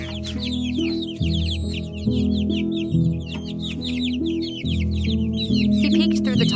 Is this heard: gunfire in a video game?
no